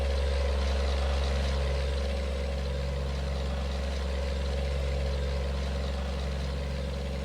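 An old Mack B61 truck engine in American Truck Simulator idles with a deep, steady low rumble and a droning hum, heard close from inside the cab, loud and continuous with no talk.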